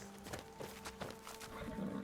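Horse hooves clip-clopping in the video game Skyrim, a quiet, uneven series of hoof thuds at a walking pace under a faint steady hum.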